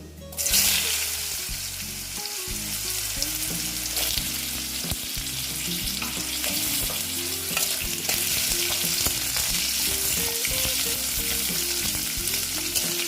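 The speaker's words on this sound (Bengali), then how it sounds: "আলুটা দিয়ে অল্প ভেজে নিচ্ছি" Potatoes frying in a pan after aromatics, a loud continuous close sizzle with occasional stirring and a pan-like tonal hum beneath, steady throughout with no talking.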